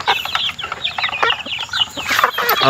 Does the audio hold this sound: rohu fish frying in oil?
no